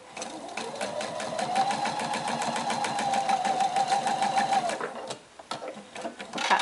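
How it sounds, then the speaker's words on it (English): A sewing machine stitches steadily along the edge of a fabric tote bag, its rapid rhythmic needle chatter close and continuous for several seconds, then slows and stops with a few short bursts as it backstitches. "I'm just going to sew off and backstitch"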